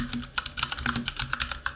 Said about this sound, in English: I'm going to do a little demo typing at the end with the cherry brown switches